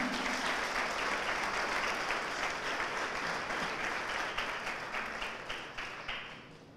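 A church congregation at El Shaddai claps together, a full, steady wash of applause that gradually thins into scattered, separate claps as it fades toward the end.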